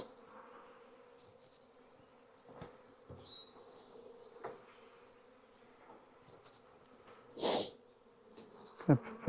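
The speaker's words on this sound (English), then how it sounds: "Watch out, bees." Honey bees buzz around a hive while nucs are installed, a low continuous drone close by, with faint handling noises and a few louder bumps and rustles.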